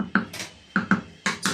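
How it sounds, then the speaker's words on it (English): A spoon knocks and scrapes against a cooking pot while chicken stew is stirred, six sharp metallic clinks in quick pairs, close and fairly loud, with no talk. "I'm going to mix it"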